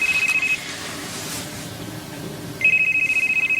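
A telephone rings with a steady electronic tone in two bursts, one at the start and a louder one near the end, separated by a quiet pause with no talking.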